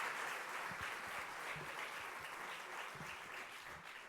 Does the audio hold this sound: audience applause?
yes